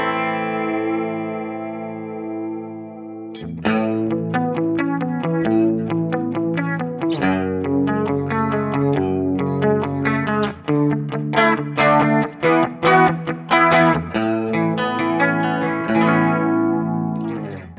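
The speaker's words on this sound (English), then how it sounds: "Now we got kind of like a chorus sound." Electric guitar played through a Seymour Duncan Vapor Trail Deluxe analog delay with modulation added, giving a wavering chorus shimmer; a sustained chord rings alone at first, then steady picked chords and single notes continue loud and close, no talking.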